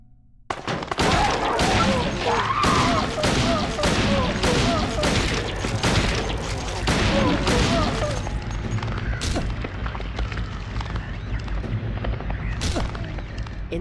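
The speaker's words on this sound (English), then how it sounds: "Handgun ready and fire as soon as possible." Rapid handgun shots fire in a tight volley inside a video game room, each sharp report loud and close, the burst thinning to scattered isolated shots after about eight seconds over a steady low background hum.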